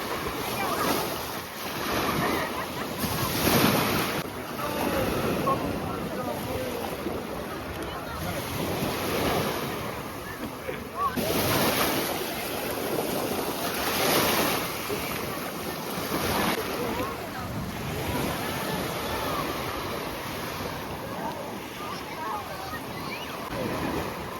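Surf washes onto a crowded beach in Chornomorsk, a steady rolling roar with waves breaking every few seconds, mixed with wind buffeting the microphone and a faint murmur of beachgoers in the distance.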